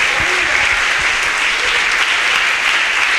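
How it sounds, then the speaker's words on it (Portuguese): A church congregation claps together in a loud, sustained burst of applause that fills the room evenly from start to finish. "aplauda ao nosso Deus mais uma vez"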